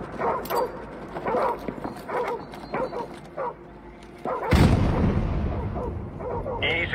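Dogs bark in the GTA video game, several yips and woofs spread through the clip under someone talking, with a louder burst of game noise partway through.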